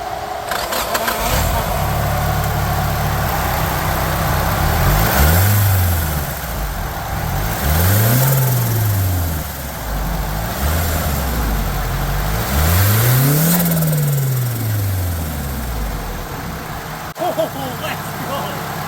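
A modified Nissan SR20DET engine cranks, catches and runs loudly, revving up and down several times in rising and falling sweeps before settling.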